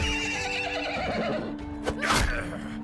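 A horse neighs in a video game, a loud whinny with a rising and falling cry near the end, over a steady game soundtrack and ambient noise.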